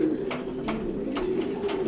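Racing pigeons coo in a loft, several soft repeated calls over a steady low background hum.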